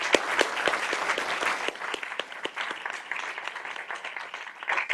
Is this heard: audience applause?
yes